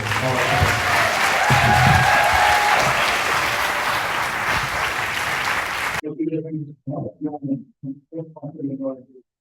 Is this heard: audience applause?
yes